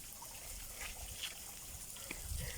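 Small stream of water trickling at Meeyan Ella waterfall, a soft continuous splashing wash at moderate distance with a few brief louder spatters, no voices.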